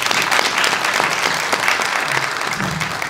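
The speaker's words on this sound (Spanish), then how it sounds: "Un aplauso para ellos." An audience at a talk in a lecture series applauds steadily, a dense continuous wash of many hands clapping at close range throughout.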